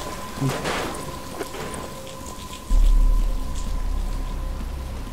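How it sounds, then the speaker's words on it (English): Rain falling in a Batman video game, a constant hiss of steady rainfall with a deeper rumbling swell partway through, heard alone without talk. "But it's starting to rain."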